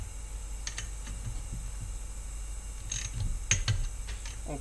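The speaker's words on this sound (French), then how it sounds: "Donc là maintenant on va serrer par contre la culasse au couple." An engine cylinder head is tightened with a torque wrench during a scooter engine build. It gives quiet, close mechanical clicks and short ratcheting bursts against a steady low hum, with no voices.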